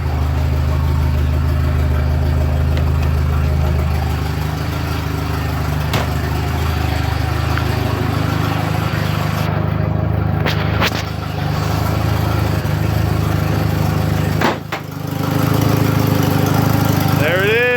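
A car engine runs just after a fuel pump repair, with a large gap between the turbo and the manifold. It gives a loud, continuous, rough idle with a few brief dips, and voices talk over it.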